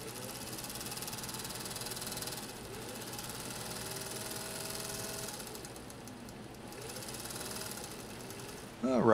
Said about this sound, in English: I'll zoom in a little bit so you can see this bobbin winder working